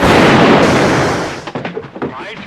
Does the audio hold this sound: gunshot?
yes